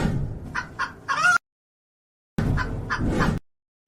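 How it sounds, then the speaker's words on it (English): A live chicken clucks loudly and close by in two bursts of rapid clucks separated by a brief silence. "That chicken is so loud."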